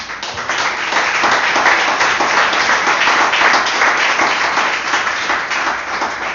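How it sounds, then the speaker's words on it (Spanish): A church congregation claps and applauds together, a loud, sustained burst of many hands that swells and carries on for several seconds before tapering slightly. "Si usted es trigo, aplauda al Señor."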